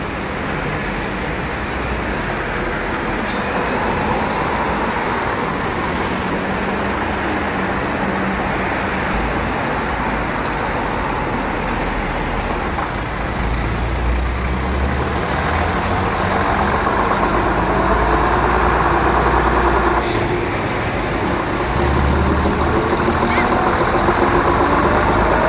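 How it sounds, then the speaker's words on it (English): A London RT bus, RT3183, pulls away from Sevenoaks bus station bound for West Ham, its heavy diesel engine droning steadily throughout, loud and close in traffic. "RT3183 heads for West Ham soon after leaving Sevenoaks bus station."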